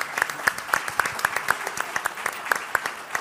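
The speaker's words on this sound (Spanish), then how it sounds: "yo pediría un aplauso casi" An audience at a conference on growth strategies for Galicia gives a brief round of applause, moderate and fairly distant, a steady patter of clapping hands with no talking.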